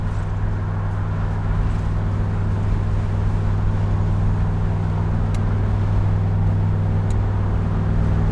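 A 1967 Corvette convertible with original-style side exhaust pipes cruises along, giving a steady, loud low engine rumble throughout with road noise and no speech.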